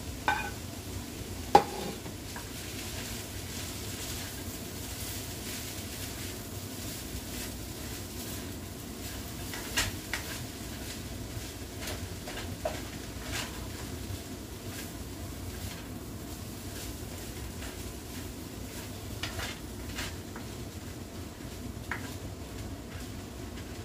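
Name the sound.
egg frying and stirring with sinangag (garlic fried rice) in pan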